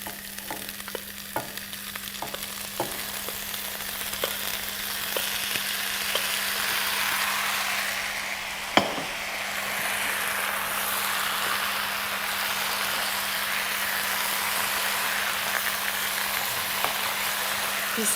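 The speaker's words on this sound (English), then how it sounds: "You stir your butternut." Butternut sizzles steadily in a pan with golden-brown onion as a soup base, a continuous close frying hiss with intermittent scrapes and taps of stirring.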